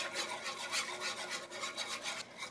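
A whisk works apple pie filling with cornstarch in a bowl for a vegan, gluten-free pie, giving steady rhythmic scraping and swishing strokes, close and moderately loud, with no talking.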